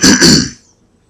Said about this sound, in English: after clearing my throat